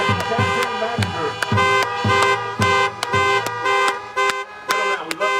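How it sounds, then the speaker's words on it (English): Car horns honk repeatedly at an outdoor rally, short and long blasts overlapping in an irregular rhythm, loud and close, with faint crowd noise underneath. "honk your horns"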